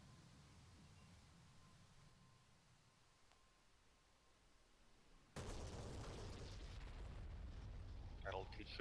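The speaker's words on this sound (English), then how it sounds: "I'm hearing explosions." Game explosions in DCS flight simulator JDAM bombing by a Hornet jet thunder in with a sudden loud burst midway, then a dense roar of blasts and rumble continues to the end; quieter hum and murmur beforehand.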